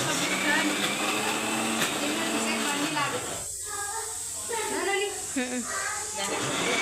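A kitchen mixer grinder whirs loudly and continuously while a person talks over the motor noise.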